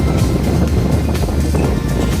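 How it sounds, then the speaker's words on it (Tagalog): Strong wind buffets the microphone at a ship port where a large passenger vessel is docked, a loud, continuous, gusty roar with low rumble throughout. "Lakas ang hangin."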